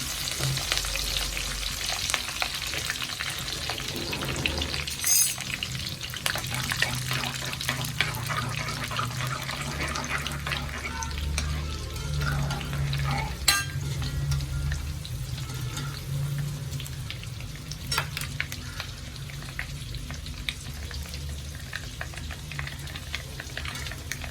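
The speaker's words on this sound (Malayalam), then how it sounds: "നാല് വറ്റൽമുളക് ഇട്ട് കൊടുക്കാം. കറിവേപ്പിലയും കൂടി ഇട്ട് കൊടുക്കാം." Dried red chillies and curry leaves frying in hot oil for an amla pickle, giving a steady, close sizzle with crackles and stirring scrapes that lasts throughout, with no talk.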